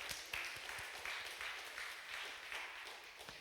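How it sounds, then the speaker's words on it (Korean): Congregation applauding during a Sunday church service, a steady wash of many hands clapping that continues throughout at moderate distance, with no speech over it. "하나님께 영광의 박수를 올려드립시다"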